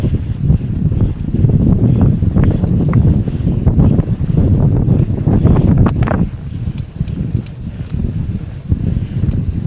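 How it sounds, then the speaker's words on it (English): Steady, heavy wind buffeting the microphone while riding a bike, a loud broadband roar that gusts and barely lets up throughout. "got some of that wind"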